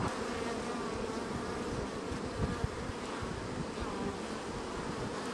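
Bees buzz close around a beekeeper's head near a farm, a dense, continuous droning hum with a few sharper passes and no talking.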